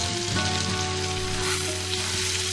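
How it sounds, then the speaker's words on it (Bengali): Chopped onion and tomato fry in a pan with a continuous close sizzle, even and fairly loud throughout, with no voices. "টমেটো কুচি দিয়ে আমি আরও 2 মিনিট ফ্রাই করে নিচ্ছি।"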